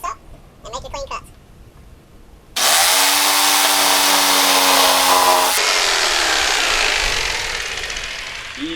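Power saw cutting a clamped board for a fishing rod rack, a loud whining burst for about three seconds that winds down gradually, following brief talk at the start.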